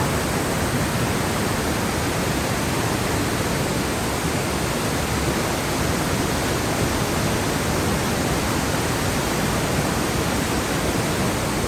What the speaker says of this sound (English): sleeping with the sound of the waterfalls